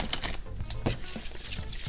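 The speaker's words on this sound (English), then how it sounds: "I think they ruffle shuffle pretty decently." Monster Jam playing cards being riffle shuffled, a quick burst of crisp fluttering clicks and slaps at close range.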